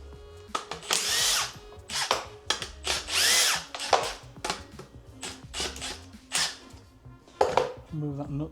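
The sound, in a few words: power tool removing bolt from back axle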